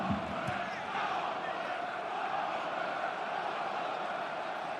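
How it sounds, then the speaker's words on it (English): Home football crowd at Middlesbrough during a Championship match against Sheffield United, a steady distant roar of massed voices cheering and encouraging, continuous and even throughout. "The home fans encouraging their side to have something to show for their first half endeavours."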